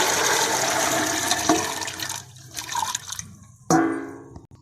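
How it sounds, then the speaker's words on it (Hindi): A steady rush of water and splashing, then a brief pause, and another sharp splash and pour as black chickpeas drop into the water in a cooker. "अब हम इसमें चने शामिल कर देते हैं।"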